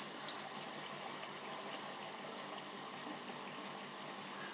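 Steady water from a motor pump pours into a white plastic bucket at home, a constant even rush of flow with no talk over it.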